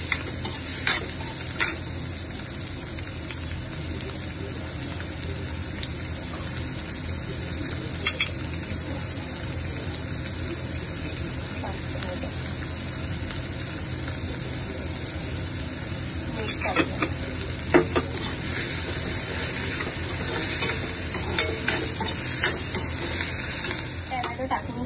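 Tomatoes stirred into frying onions in a pan give a continuous sizzle and hiss, with intermittent scraping and stirring clatter, loud and close for the whole stretch.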